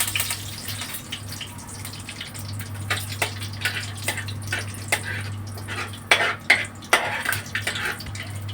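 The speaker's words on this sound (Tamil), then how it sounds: "நல்லா பொரிஞ்சிருச்சு கடுகு இதெல்லாம்" Mustard, fenugreek, fennel and black sesame seeds sputter in hot oil in a kadai, giving irregular sharp pops and crackles over a steady low hum.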